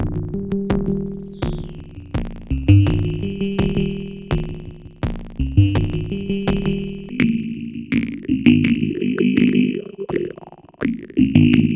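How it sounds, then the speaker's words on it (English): A drum synth run through a Drolo Kiwami pedal, producing loud, processed percussive hits with heavy filtering and sustained tonal tails, steady rhythmic pulses that grow denser and more warbled toward the end, with no talking. "I'm going to start off by plugging my drum synth into it"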